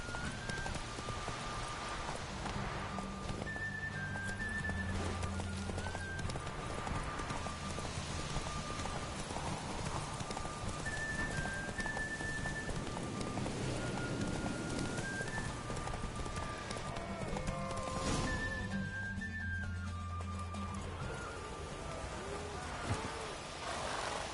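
Roach, Geralt's horse in The Witcher 3, gallops with steady clip-clopping hooves under a dense game soundscape of rain-like patter and ambient tones, continuing without letup throughout.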